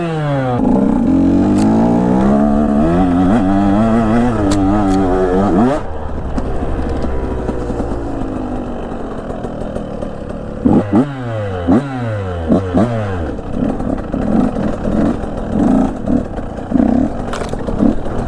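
KTM 125 and 250F motocross dirt bikes rev hard, engine pitch sweeping up and down through repeated throttle blips and gear changes, loud and close, with a brief lull in the middle.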